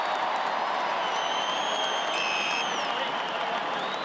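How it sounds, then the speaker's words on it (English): Loud, steady crowd roar with applause and cheering at an AFL football match between Hawthorn and Port Adelaide, greeting the returning captain, sustained and dense with no break throughout. "so that big cheer was for the skipper, back from that knock from Hodge"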